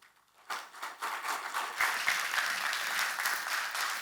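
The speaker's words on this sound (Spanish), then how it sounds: "lo recibimos con un fuerte aplauso" An audience at a sustainable finance event breaks into steady, full applause to welcome a speaker, dense clapping starting abruptly after a brief quiet moment and continuing evenly throughout.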